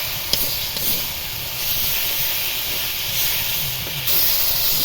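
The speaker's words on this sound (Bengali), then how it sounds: "টমেটো আর বেসনের কাঁচা গন্ধটা চলে যাওয়া পর্যন্ত আমি কষিয়েছি।" Tomatoes and gram flour sautéing in hot oil for a pea ghugni gravy, giving a steady broadband hiss of frying with a few faint stirring clicks, close and continuous with no talk.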